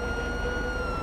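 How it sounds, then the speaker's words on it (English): A police car siren from the GTA 5 video game, loud, continuous and close over a dense low rumble, with no talking. "And they turn the sirens on."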